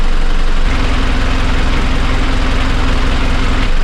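Boat engine idling steadily after being shifted into gear, a loud, continuous low rumble with a slight change in tone as the gear engages partway through.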